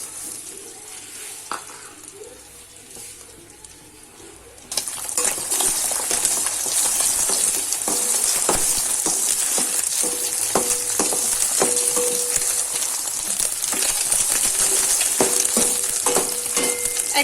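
Beaten egg poured into hot oil in a pan fries with a loud, steady sizzle that suddenly begins a few seconds in and continues throughout, with occasional clinks of a utensil stirring.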